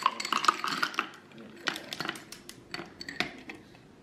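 Ice cubes drop into a strawberry-and-cream frozen drink with a series of scattered clinks and clatters, close and moderately loud, tapering off over a few seconds.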